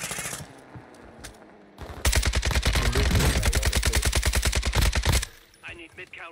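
Warzone 2 gunfire, with a long sustained burst of rapid automatic shots, loud and close, preceded and followed by quieter game noise.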